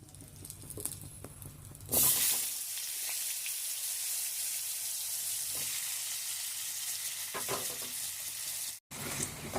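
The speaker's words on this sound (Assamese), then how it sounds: "এতিয়া সেই একেখিনি তেলতে এইবাৰ আমি আলুখিনি ভাজি ল'ম।" Steady oil frying with a strong sizzle that jumps up after a couple of seconds as potatoes hit the pan, and continues with occasional stirring clinks.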